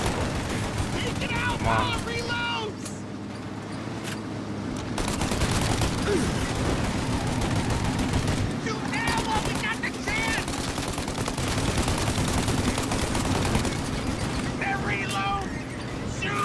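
Sustained video game gunfire from Mafia Definitive Edition: dense, rapid shots and mechanical clatter run continuously, loud and close, with shouted voices breaking in.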